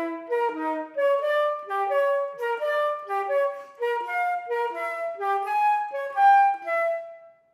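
Detached staccato practice exercise on a melodic instrument, short separated notes in quick even groups moving up and down in pitch, played close and clear with no talking.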